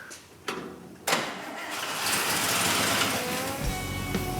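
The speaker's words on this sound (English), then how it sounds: "Bill had a hunch that this was a good running engine." An old car engine in a custom garage cranks with a couple of sharp clicks, then catches and settles into a steady, rough running drone that holds close and loud.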